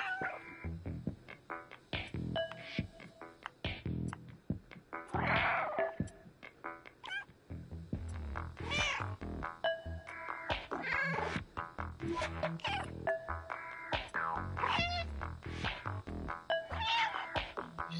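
An orange stray cat meows repeatedly and insistently, close and loud, with drawn-out wailing calls coming in irregular bursts over about eighteen seconds.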